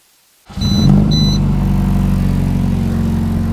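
After a short silence, the loud tuned exhaust of a track-prepared Honda Civic EG6 fires up and settles into a deep, rumbling idle, close by, with a faint chime early on.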